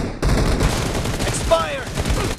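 Gunfire in BGMI team deathmatch, a short burst of rapid shots with a brief ringing tone, heard close and loud over game background noise.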